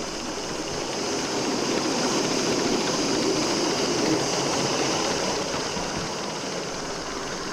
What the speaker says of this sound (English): The locomotive is working hard as it's climbing up a 1 in 75 gradient.